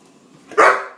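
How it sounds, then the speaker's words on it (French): Jasper the dog lets out a single sharp bark, close and loud, rising from a quiet room with faint low murmuring before it. "Pas japper, doucement."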